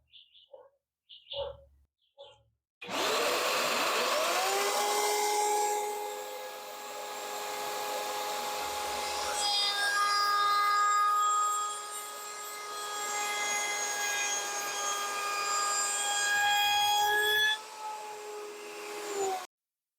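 A few soft knocks and clicks, then a dust collector and table-mounted router spin up into a loud whining roar that rises in pitch and holds while cutting wood.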